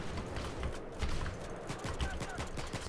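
Rapid gunfire from Battlefield 3 rattles in dense bursts through the whole stretch, mixed with mechanical clatter and busy game noise.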